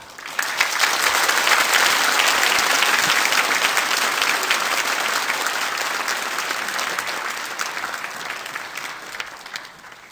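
Church congregation in Bundang applauding in welcome of a preacher, a broad, sustained roar of many hands clapping together, loud and even for the whole stretch with only a slight easing near the end.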